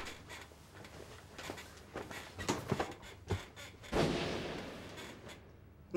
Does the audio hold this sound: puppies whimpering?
no